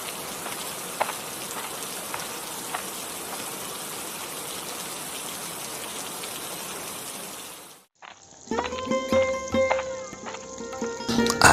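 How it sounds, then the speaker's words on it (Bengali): Heavy rain pouring down in a dense, even hiss for about eight seconds, then cutting off abruptly and giving way to a different, clattering scene. "বৃষ্টি তো আরো জোরে পড়ছে রে"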